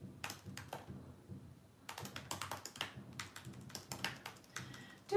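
Rapid typing on a computer keyboard indoors, bursts of crisp close key clicks separated by short pauses, fairly quiet with no talk.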